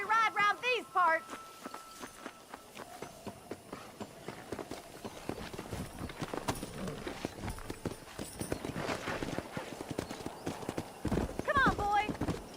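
A horse clip-clops along under a rider in Red Dead Redemption, its hooves falling at a brisk walk that speeds up. A whinny sounds at the start and again near the end, and voices talk over it.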